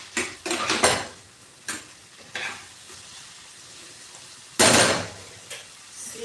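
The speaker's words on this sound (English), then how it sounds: "Look at the way I'm stir frying them" Vegetables sizzle in a pan as they are stir-fried, with scraping and clanking bursts of a utensil against metal, close and loud, no talking.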